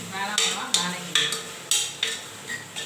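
A spoon scrapes around a cooking pan while a tempering is stirred, about six short, sharp strokes in an even rhythm, close up over a faint background sizzle.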